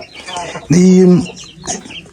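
A Korean breed chick or young rooster, a pure Korea fowl weighing around four kilos, gives a loud, close cluck with a sustained middle, and quieter clucks follow amid background talk.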